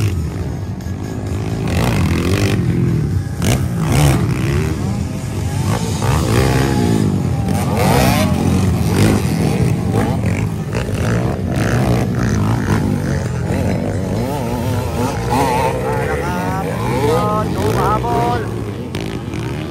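Enduro motorcycles racing in a local final heat, their engines droning loudly and continuously with rising and falling revs throughout, while a commentator talks excitedly over the noise.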